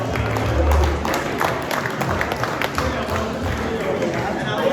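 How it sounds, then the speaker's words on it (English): Audience applause at a golf tournament awards reception, a steady wash of clapping from a crowd with chatter mixed in, holding fairly loud throughout. "Round of applause for OKC one more time"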